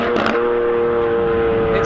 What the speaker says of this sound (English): the SVJ is probably the loudest factory car I've ever heard on the road